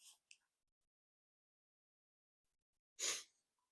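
A single loud sneeze sounds as a livestream alert, a short sharp burst near the end after two faint breathy clicks at the start, with silence in between.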